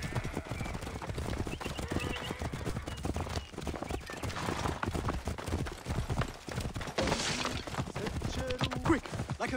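Horses gallop hard in a chariot race in the video game Assassin's Creed Origins, with dense, rapid clip-clop hoofbeats throughout, a whinny or two, and shouting voices partly buried in the din.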